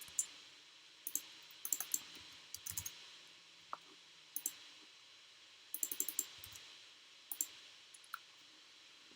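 A computer mouse clicking on screen icons: faint, sharp clicks scattered through a quiet room, some single and some in quick clusters of two or three.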